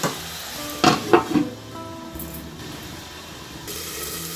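Jackfruit seeds in a pan with a little water give a soft continuous sizzle, with a few brief louder clatters of stirring early on and no voices.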